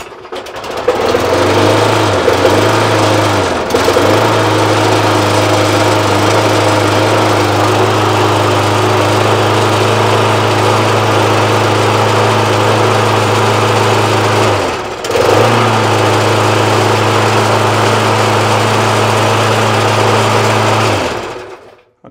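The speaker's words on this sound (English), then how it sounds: "the lawnmower now runs and stops when it's asked to" A lawnmower's small petrol engine, faulty with starting issues, runs steadily and loudly with a low droning hum, stuttering briefly near the start and again around the middle before carrying on.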